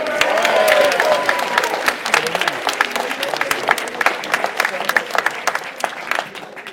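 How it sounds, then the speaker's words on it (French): An audience at a prize-giving ceremony claps steadily throughout, a dense patter of applause that thins slightly toward the end. "on va l'applaudir malgré son absence, Bartholomé."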